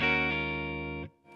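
A single sustained distorted electric guitar chord rings through a Marshall DSL15C combo amp with the deep switch off, held loud for about a second before being cut short, then a faint scrape.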